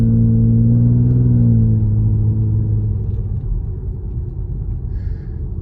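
In-cabin exhaust of a Ford Explorer EcoBoost with the muffler deleted, a deep loud droning rumble that holds steady and then eases slightly as revs settle, with no talk.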